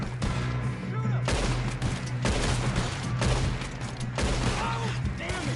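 Rapid gunfire from a Western shootout in Red Dead Redemption, dense repeated shots and bursts forming a near-continuous barrage, loud and close, with shouting voices mixed in.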